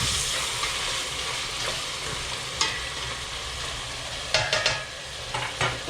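Chicken tinola simmering in a pot with fish sauce just added, stirred with a spoon: a steady bubbling sizzle with scraping strokes, a few sharper utensil clinks near the end, no voices.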